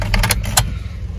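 A car being started with a programmed Xhorse universal remote key gives a quick run of sharp clicks followed by a low steady rumble, close and brief.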